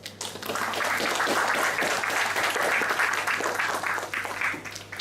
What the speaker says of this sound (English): please put your hands together to applaud my team of energetic and enthusiastic leaders